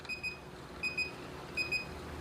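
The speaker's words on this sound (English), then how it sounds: "I need to count 20 consecutive beeps" Faint electronic beeps from an SO2 titration instrument at its endpoint while testing wine, heard as three pairs of short, high bleeps at even intervals over a quiet background hum.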